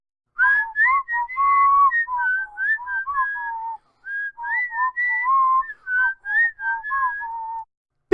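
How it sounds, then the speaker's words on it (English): Two people whistle a warbling, tuneful run of rising and falling notes, one long burst followed by a short pause and another, loud and close with no talking. "it sends the Wonder Twins into a whistling frenzy"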